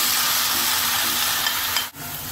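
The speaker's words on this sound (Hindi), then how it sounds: "अब हमसे पहले प्याज डाल के अच्छे से फ्राई करेंगे" Onions frying in hot oil in a karahi give a steady, close broadband sizzle with soft stirring scrapes and one brief dip near the end.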